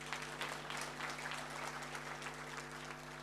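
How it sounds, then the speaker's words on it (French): Crowd applauding a guest at a second-anniversary celebration, steady massed clapping held at an even level over a faint low hum, no voices on top. "Applaudissez pour ce monsieur, s'il vous plaît."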